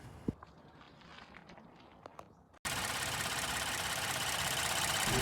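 A 2020 Ford Transit-350 cargo van's 3.5-liter EcoBoost V6 fires up after a few quiet clicks and footsteps, then settles into a loud, steady idle that holds without a break.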